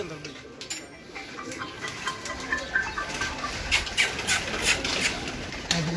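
Pigeons cooing indoors, soft repeated coos and faint wing flutters under a steady background hiss, with a voice present.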